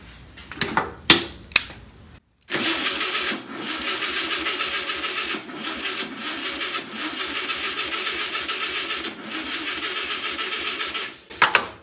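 An old VW Beetle engine, unstarted in over 25 years, cranks with a rapid, rattling chug that runs steadily for several seconds after a few short clicks and bursts.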